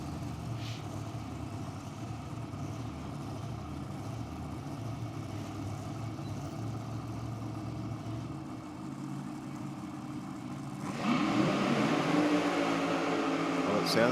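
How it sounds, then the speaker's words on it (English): Two drag racing cars at Sydney Dragway idle with a steady low mechanical drone from a distance, then a louder, rougher engine note rises sharply for the last few seconds. "both cars fire up without issue"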